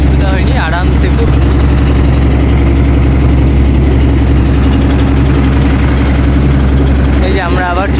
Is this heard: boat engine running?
yes